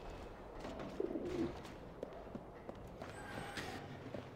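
Caged birds in the video game Alice Madness Returns coo softly a few times amid a low, noisy game ambience with faint footsteps-like thumps.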